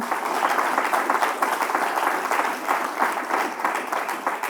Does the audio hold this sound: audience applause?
yes